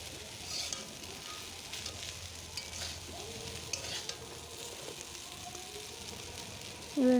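Boiled chow mein with winter vegetables stir-fried in a pan, a steady low sizzle with scraping stir strokes running throughout, close and moderately quiet, with no talk.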